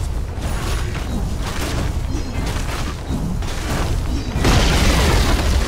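A Radiant bottom tower collapsing in a Dota 2 match, a loud, dense rumbling crash with booming impacts and debris, sustained throughout and swelling louder near the end.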